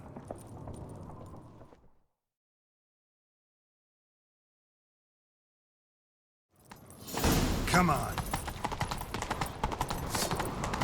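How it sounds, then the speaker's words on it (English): Hooves clatter in a fast gallop in The Witcher 3: Wild Hunt after a stretch of silence, loud and close, with a short spoken line and game sounds around it. "Grab a horse, we'll chase him down."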